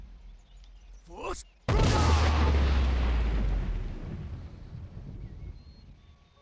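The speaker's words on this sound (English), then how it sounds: "Do we have exploding bolts of fire?" An exploding fire bolt in a fantasy video game hits with a sudden heavy boom that rumbles on for a couple of seconds and then fades, after a brief whooshing cast.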